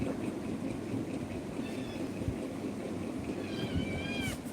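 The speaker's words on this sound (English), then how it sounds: "This is my new cat, and it is pretty much smaller, because its age is not that much higher." A young cat gives two short, high meows, one in the middle and a louder one near the end, over a steady rumbling background noise.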